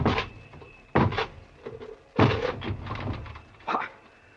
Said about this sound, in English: break this door down